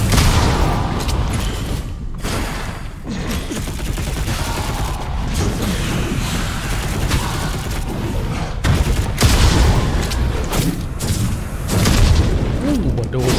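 Bombs exploding in the action game Darksiders Genesis, a dense loud run of booms and crackling blasts with gunfire-like bursts, one after another with no pauses.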